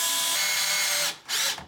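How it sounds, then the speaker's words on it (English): A power drill drives a 3-inch screw into a wall stud, whirring steadily for about a second, cutting out briefly, then spinning up again in a short second burst, close and loud. "That drill might be a little weak for a"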